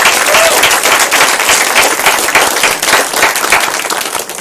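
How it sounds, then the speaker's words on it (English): Audience applause at a school board meeting fills the room, a dense, loud wash of clapping sustained for several seconds without letting up. "So can we give her another round of applause?"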